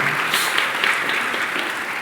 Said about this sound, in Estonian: Aplaus talle.